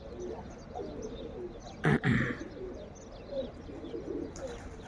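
Pigeons coo softly and repeatedly in a loft, low murmuring calls continuing throughout at close range, broken by a brief louder flutter or knock near the middle.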